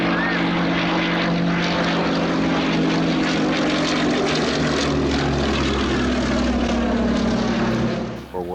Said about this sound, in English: Westland Lysander.